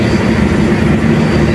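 A train arriving at Gambir station in Jakarta, a steady, loud low rumble filling the whole stretch with no clear horn or braking squeal standing out.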